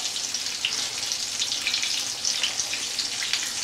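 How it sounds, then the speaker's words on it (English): Chicken fried steak sizzles in a frying pan, a steady bright crackling hiss with small pops, close and continuous with no talking. "if you can hear that nice sizzle sound, that's what you want to hear"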